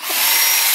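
A power drill with a bit meant for drywall bores briefly into material while a custom front bumper is built for a Honda Prelude, a steady high whine lasting under a second, close and loud.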